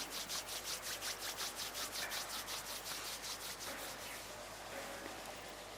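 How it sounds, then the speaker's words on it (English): Palms of the hands rubbed gently against each other during a meditation session, a soft rhythmic swishing of roughly a dozen quick strokes that blurs into a steady faint rustle. "gently rub the palms of your hands against each other"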